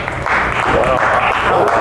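A stand-up comedy crowd claps briefly on cue, a short burst of applause with a voice talking over it.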